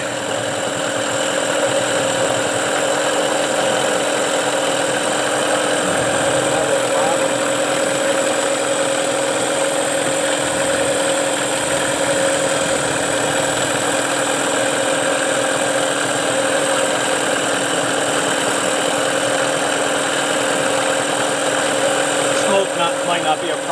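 A Mercury Marine 9.9 outboard motor that hasn't run in a while holds a steady low idle, a constant even drone with a tonal hum that stays level and close throughout, slightly smoky.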